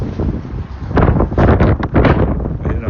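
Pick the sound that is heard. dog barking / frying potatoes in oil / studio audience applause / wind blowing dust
wind blowing dust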